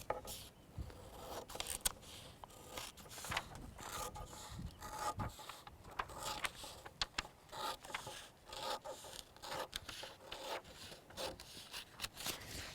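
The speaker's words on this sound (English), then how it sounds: "I'll use my pepper shears to cut the piece of pepper." Paper shears cut through a sheet of patterned paper with a run of close, crisp snips and rasping slides, repeated steadily and quietly with no talk.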